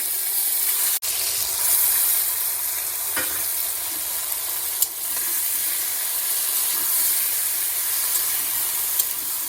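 Taro leaves and chillies frying in a pan, a steady loud hiss and sizzle with a few sharp clicks and utensil taps, no talking.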